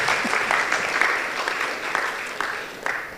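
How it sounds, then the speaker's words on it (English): Steady applause from a crowd at a business forum at the British Council in Accra, dense clapping throughout with a few louder claps standing out, fairly close and continuous. "Another round of applause for Coach Jerry."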